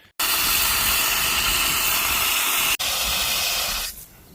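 Rummage sale items rinsed under running water: a loud, steady hiss of flowing water starts abruptly, breaks for an instant, resumes, then tapers off and stops.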